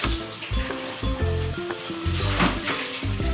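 A flatbread flipped in ghee sizzles steadily in a pan over a medium gas flame, a close, bright crackle with clanks of the utensil and a tonal hum underneath.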